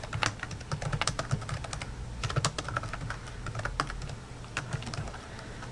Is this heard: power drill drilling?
no